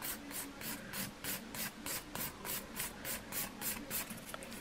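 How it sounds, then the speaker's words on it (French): A nail file rasps across fingernails in quick, regular back-and-forth strokes, close up and steady, with no talking. "Et là je viens limer en mettant j'essaie de mettre ma lime comme ça"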